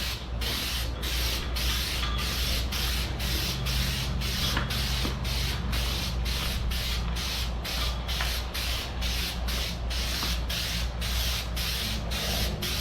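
Quick repeated hissing bursts of an aerosol can spraying clear coat onto a headlight lens, evenly spaced in a steady rhythm over a faint background hum.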